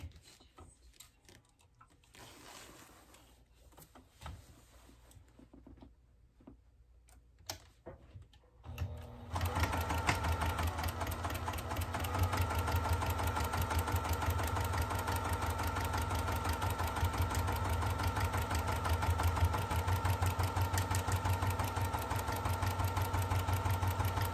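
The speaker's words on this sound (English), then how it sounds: "I'm going to line up the foot, my presser foot, along the edge here and quilt right along the tape without stitching onto the tape" A sewing machine quilts a mini quilt along a strip of tape. Quiet handling comes first, then the motor starts and runs steadily as a fast, even mechanical whir that stays close and continuous.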